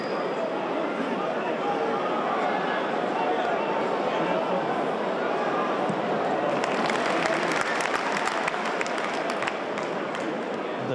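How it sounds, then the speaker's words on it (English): A big football crowd of over 40,000 fills the Stadium of Light at a Sunderland AFC versus Cardiff City match, a steady broad roar throughout with scattered claps and cheers rising in the second half, under commentary. "The big crowd inside the Stadium of Light."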